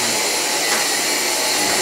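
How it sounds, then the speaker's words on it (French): Continuous loud roar of a household vacuum cleaner running close by, steady and unbroken throughout with no talk. "Il est en train de passer l'aspirateur."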